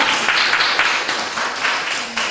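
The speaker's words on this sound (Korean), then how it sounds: "큰 박수 부탁드립니다" Church congregation applauding students at a Korean youth dedication service, a dense, loud burst of clapping from a large group that holds steady for a couple of seconds, with no speech over it.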